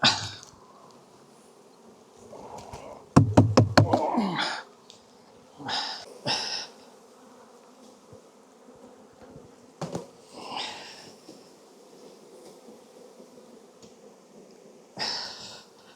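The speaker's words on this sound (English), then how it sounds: "empty the bee vac into this box" Honey bees dumped from a bee vac into a hive box during a bee rescue, giving a brief loud rattling burst of knocks and thuds, then scattered bumps and a faint buzzing hum in a quiet setting.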